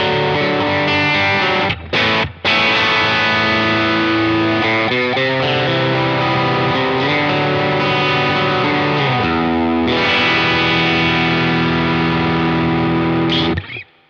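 An electric guitar plays sustained, distorted chords through a Boss RE-202 Space Echo pedal, loud and alone for about fourteen seconds, with a couple of brief cut-offs early, chord changes and echo trails before it stops.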